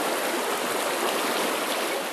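Farmington River water flowing over rocks, a steady broadband rushing close by with no breaks and no voices.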